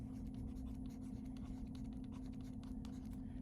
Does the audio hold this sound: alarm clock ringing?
no